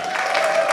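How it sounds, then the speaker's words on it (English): A comedy club audience at a live comedy gong show claps in a brief, steady burst of applause, loud and close. "Big round of applause for everyone you saw tonight."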